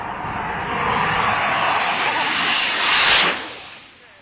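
A jet aircraft makes a low pass overhead, a broad roaring rush that swells and peaks with a sharp sweeping whoosh about three seconds in, then fades quickly.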